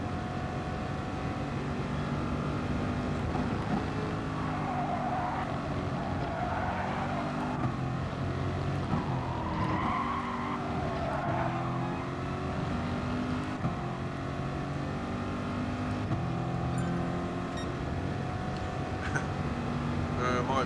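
Race cars, including a GTR, roar through a set of S-bends in a racing video game, with engines droning and shifting pitch continuously under steady talk.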